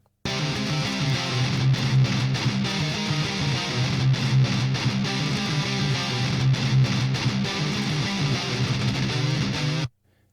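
A heavily distorted metal electric guitar tone, recorded through an amp simulator with gain set to 9, plays a dense, loud chugging riff with rhythmic palm-muted stops for about ten seconds before cutting off.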